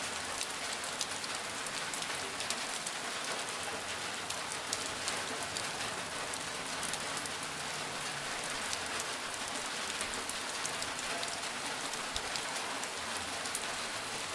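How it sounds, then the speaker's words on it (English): Gentle rain falls at night in a steady, even hiss of countless drops pattering on surfaces, unbroken and fairly close for the whole stretch, with no voices. "Listen to the rain for a moment. Every drop finds its place without any help from you."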